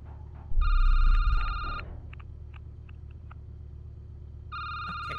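A telephone rings inside a security booth video game: a loud trilling ring, then a pause with a few soft clicks, then the ring starting again, with no talking.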